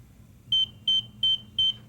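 A pool alarm, set off by a chair thrown into the deep end of a pool, sounds four sharp, evenly spaced electronic beeps, each about a sixth of a second long, over a low background hum.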